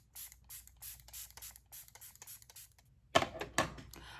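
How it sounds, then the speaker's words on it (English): Bursts of makeup setting spray hiss in a series of short, quiet puffs, followed by a couple of louder, sharper spritzes near the end. "Now let's use some setting spray."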